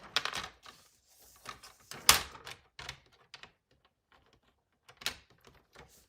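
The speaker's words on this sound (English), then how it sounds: "I need to trim off a little bit because it's a little bit longer" Stampin' Up! card paper being trimmed with scattered sharp clicks and scrapes from a paper trimmer, close and fairly quiet, coming in short separate bursts with pauses between them.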